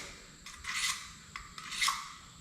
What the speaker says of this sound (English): you're going to want to use the sharpening stone on both the sides and on the actual blade face